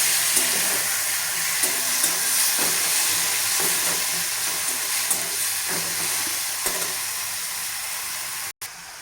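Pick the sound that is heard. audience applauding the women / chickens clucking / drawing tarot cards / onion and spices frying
onion and spices frying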